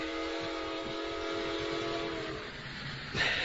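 A train rumbles steadily nearby as it passes through a station, with sustained tonal whining and a sharper burst of noise near the end; no voices.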